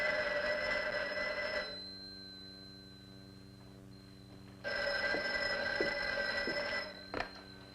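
An old 1950s telephone bell rings in an office, two long trilling bursts separated by a pause. The sound is moderately loud and slightly distant, with no voices.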